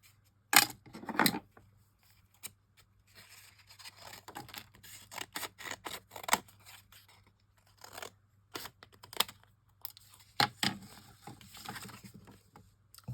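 Someone cuts a piece off with short, crisp snipping and crunching sounds scattered unevenly over several seconds, each cut followed by quieter rustling and handling noises.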